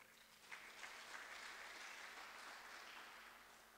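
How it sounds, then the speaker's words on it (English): A church congregation applauds the preacher at an evening service, a dense, steady patter of many hands clapping that sounds distant and faint, tapering off slightly toward the end. "Let's clap for the servant of God."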